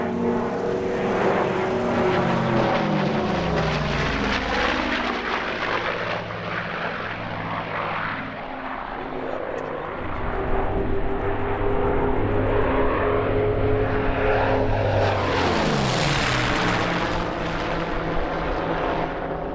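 Tigercat and Bearcat piston-engined warbirds perform at an airshow, their propeller engines rising and falling in pitch as they make loud, close passes, with a sharp surge near the end.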